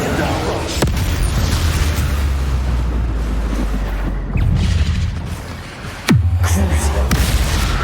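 Bombarda spell blasts in Hogwarts Legacy gameplay: a deep booming explosion rolls through most of the stretch, with sharp bursts around one, four and six seconds followed by low rumbling tails.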